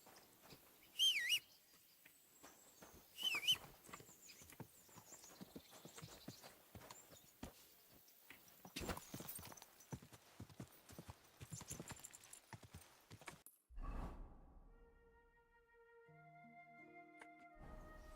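Hooves of an unsaddled horse clip-clopping in a video game, a quick run of distinct footfalls with scattered bird chirps, followed by a low thud and a fading rumble near the end.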